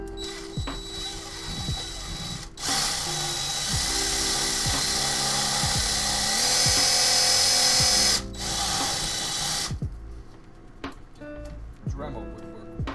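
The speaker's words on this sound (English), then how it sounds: "Dremel would work wonders here" Close, loud whine of a Dremel rotary tool cutting into a PC case for a USB Type-C front panel, running steadily in long bursts with brief pauses and a quieter tail of handling noise.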